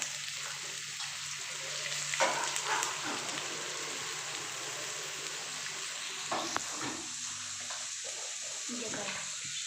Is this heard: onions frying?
yes